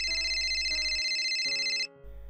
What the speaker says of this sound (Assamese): আজিৰ দিনটোৰ কথা ভাবি থাকোঁতে আকৌ ফোনটো বাজি উঠিল